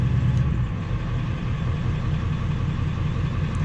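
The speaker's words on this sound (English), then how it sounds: "So we'll take it out of high idle." A 7.3 diesel truck engine with 294k miles hums in a low, steady idle, the rumble settling slightly early on as it comes down from high idle, close and continuous with no talk.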